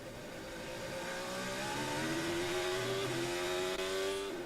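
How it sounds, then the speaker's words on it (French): A Formula 1 car at Imola, heard from the driver's helmet camera, accelerates with a rising engine whine under rushing wind noise, the pitch climbing steadily before a brief shift near the end. "On l'entend par les soubresauts du moteur."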